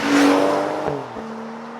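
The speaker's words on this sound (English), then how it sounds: "you hear a lot of road noise" A 2012 Mazda 3 Skyactiv produces road noise, a loud whooshing engine and tyre roar that swells and then drops in pitch before steadying into a softer hum.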